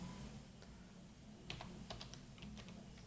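Typing on a computer keyboard: a handful of light, close key clicks in a short irregular burst over a steady faint room hum.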